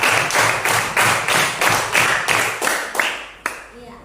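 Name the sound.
group clapping hands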